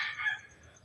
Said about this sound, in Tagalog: Yan ang manok na tinatawag na kurkukok.